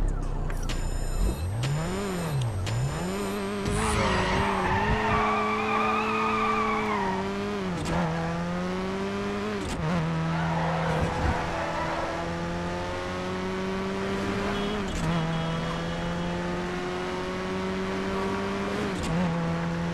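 Car engine and tire skids in the Midnight Club Los Angeles racing game, a steady engine drone shifting pitch with gear changes and squealing slides, loud and continuous with no talk.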